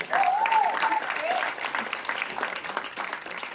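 Audience applause at a Marathi film event, a dense burst of clapping from a crowd, loud at first and then easing slightly, with a voice briefly heard over the start.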